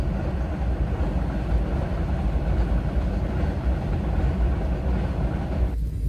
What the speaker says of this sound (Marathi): आता ट्रेन आताच गेली आहे